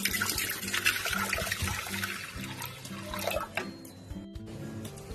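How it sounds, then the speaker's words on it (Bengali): Water poured into a pressure cooker on a gas stove, a close gushing, splashing pour that runs for several seconds, then thins and stops, leaving faint drips. "জল দিয়ে দিচ্ছি।"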